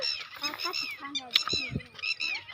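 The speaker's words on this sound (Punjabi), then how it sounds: "ਟਟੀਰੀਆਂ ਨੇ ਰੋਲਾ ਪਾਇਆ" Several lapwings call noisily, overlapping sharp, shrill cries in quick succession, fairly close, in the early morning amid light drizzle.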